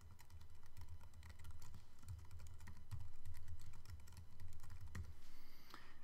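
A computer keyboard clicks steadily as a document title is typed, bursts of close, crisp keystrokes separated by brief pauses, with no talking over them.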